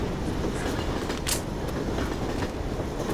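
Train ride in the video game Left 4 Dead 2: a steady, close rumble of rolling rail cars with faint clatter and a brief bright screech midway, continuous throughout with no talk.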